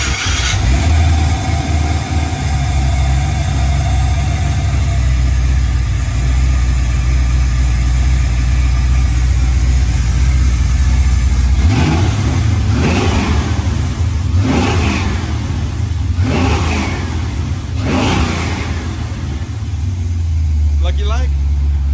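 A 1965 Chevrolet Nova engine runs loud and close from the first moment, then revs in a series of sharp surges before settling back to a rumbling idle, with people talking over it.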